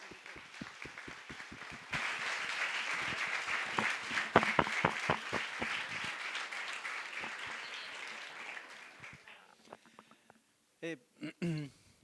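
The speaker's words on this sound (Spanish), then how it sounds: "Quiero un aplauso" Audience applause at a panel on Holocaust memory and genocide, a few scattered claps swelling into steady applause from a modest crowd, then thinning out to isolated claps and faint voices.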